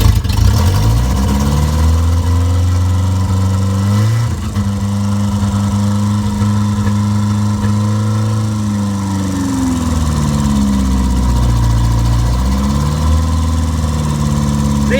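A cold 1951 Triumph Renown Razor Edge saloon engine idles roughly on choke, running too rich, a steady close chugging rumble that dips and surges a few times without fully settling.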